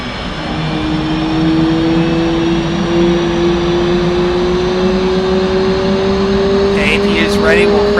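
An F/A-18C auxiliary power unit spooling up in the DCS World flight simulator, a steady loud whine with a tone slowly rising over a constant engine rumble, with a voice talking briefly near the end.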